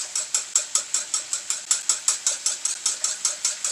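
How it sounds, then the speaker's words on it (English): A whisk scrapes rapidly and steadily against the side of a pan, mixing jerk chicken sauce with about fifteen quick, even, sharp strokes, close and fairly loud, with no talk. "Get that all whisked in there."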